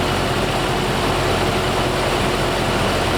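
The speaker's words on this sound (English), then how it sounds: "we've got the motor started, engine running" A 1993 Jeep YJ engine idles steadily and close by, a constant low rumble with broadband mechanical noise and no talk over it.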